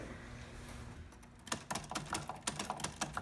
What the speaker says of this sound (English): is that a typewriter?